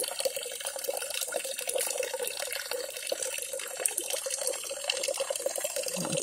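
A weak trickle of flowing water runs over stones in a creek by an outdoor washing area during the dry summer season, a steady, soft rushing and splashing that continues alone throughout.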